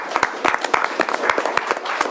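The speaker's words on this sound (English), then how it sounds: "She does deserve a round of applause." Audience at a county board of supervisors meeting giving a round of applause: a modest group clapping steadily at close range, with light crowd murmur.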